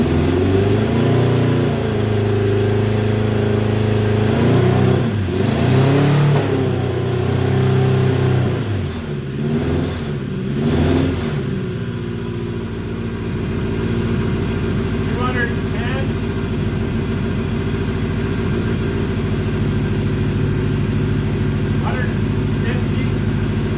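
A 1978 Kawasaki KZ650 four-cylinder motorcycle engine runs loud and close, rising in a couple of revs before settling into a steady idle, with talk over it.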